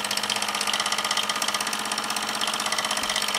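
A restored Mamod SE2A toy steam engine runs steadily, its rapid, even chuffing beat close and continuous, a quiet mechanical patter with a faint hiss of escaping steam.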